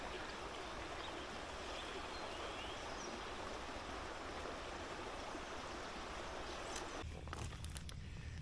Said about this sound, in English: Oh, it's a nice, relaxing creek.